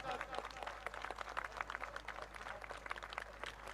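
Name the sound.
audience clapping at a community conference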